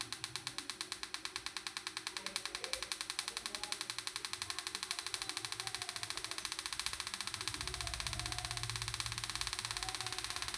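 Ignition coil from a TVS Apache motorcycle sparking on a tester at 1000 rpm, a rapid, even train of sharp ticking snaps repeating steadily over a low electrical hum, faint and close.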